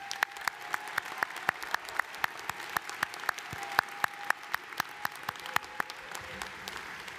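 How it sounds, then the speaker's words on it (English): Audience at a university commencement applauding graduating chemical engineering seniors: steady sparse clapping from a sizable crowd, individual sharp claps standing out at a fairly even pace, somewhat distant, no talk over it. "Let us applaud the accomplishments of the graduating seniors of the Chemical Engineering Program."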